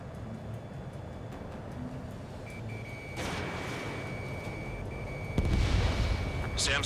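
Explosions as surface-to-air missile sites are destroyed in the jet combat game Ace Combat 7, with an Su-35S in flight: a rumbling, broadband blast swelling partway through over steady engine roar, with a later louder burst.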